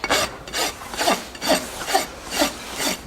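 A rasp files a horse's hoof during barefoot trimming, a steady series of about six rough rubbing strokes in an even back-and-forth rhythm, close and clear with no talk.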